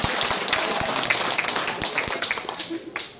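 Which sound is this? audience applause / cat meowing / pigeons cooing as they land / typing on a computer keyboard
audience applause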